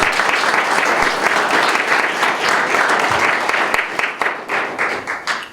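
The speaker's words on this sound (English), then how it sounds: "Let's give them a round of applause." Loud, dense audience applause at a school district celebration of new electric school buses, continuous clapping that thins into scattered claps toward the end.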